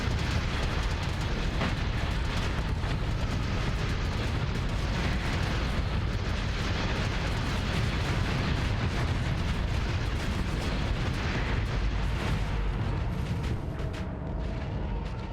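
Starship guns and explosions in a Starsector space battle, a dense unbroken barrage of booms and bursts churning loud for the entire run, with no pauses.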